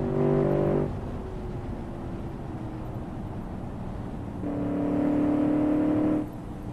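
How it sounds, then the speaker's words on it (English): Engine of a car driven in a video game, steering-wheel controlled, droning steadily with two louder revving surges near the start and end, no talking over it. "it's so much fun to drive cars in this game"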